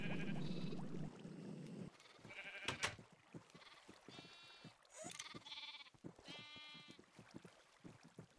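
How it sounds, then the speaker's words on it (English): Sheep in Minecraft bleat repeatedly, several short wavering bleats spaced across the stretch, mixed with clicks and small game sounds, fairly close and moderately loud. "they're all the baby sheep are pushed through over here by the water"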